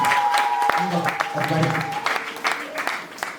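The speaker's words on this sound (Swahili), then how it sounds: "Pigeni makofi ndugu" A church congregation claps in a dense, continuous patter of many hands, fairly loud and close, blended with crowd murmur and voices throughout.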